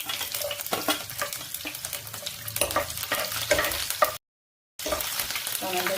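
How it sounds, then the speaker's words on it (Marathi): Mustard seeds, curry leaves and green chilies frying in hot oil for poha: a dense, crackling sizzle with spoon scrapes, steady and close, broken once by a short moment of silence before resuming. "आता टाकूयात मोहरी, त्यानंतर कढीपत्त्याची पाने, त्यानंतर हिरवी मिरची"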